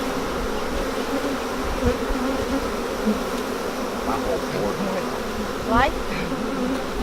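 Around a beehive, a dense swarm of about a thousand bees hums continuously at close range, with a single brief spoken word from a man partway through.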